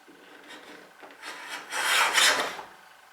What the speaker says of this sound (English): And you start to hear it's just kissing the wood.